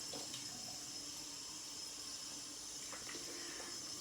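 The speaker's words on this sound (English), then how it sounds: "Just rinsing off down here," Tap water runs steadily into a sink while someone rinses off after a shave, a continuous hiss and splash with small clinks and splashes breaking through now and then.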